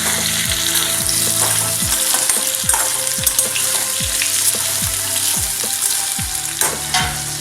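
Chopped tomato with salt stirred in a frying pan, a loud steady sizzle under repeated rhythmic scrapes of a spoon roughly every half second, close, no voices.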